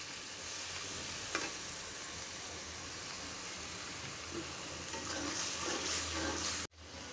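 Spice masala for a country-chicken korma, with garam masala, bay leaf and yogurt, sizzles and is stirred in a pan. The hiss is steady and fairly quiet, with a light scrape or two, ending in a brief knock and a drop-off.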